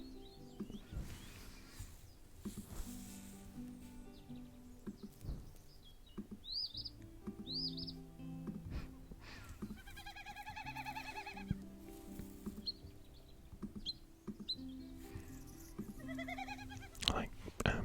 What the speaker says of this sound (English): Clicking on the birds and listening to the calls.